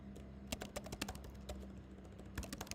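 Someone types on a computer keyboard, entering notes into sales software: quiet, irregular clusters of crisp keystrokes with brief pauses between bursts, close and alone without talk.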